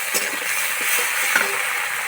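Chopped tomato and ginger-garlic paste sizzling in hot oil, a dense, loud, continuous crackling hiss with faint stirring taps, no talk.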